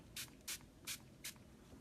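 A spray bottle filled with plain water spritzes onto a watercolor workspace in four quick, evenly spaced hissing bursts, close and crisp over a quiet room.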